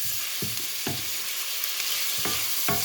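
Burong isda (fermented rice and fish) is stirred in a hot frying pan, with a steady close sizzle and several distinct scraping strokes of the utensil across the pan.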